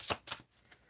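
Two quick, crisp flicks of oracle cards being handled sound up close, followed by a faint soft tap.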